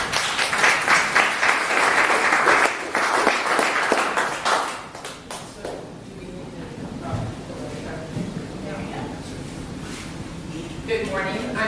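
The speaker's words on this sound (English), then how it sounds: "please give a warm round of applause for Terry with GuestWings" Audience applause for a presenter at a Tampa Bay business gathering, a burst of steady clapping from a room of people that fades after a few seconds into murmuring and talk.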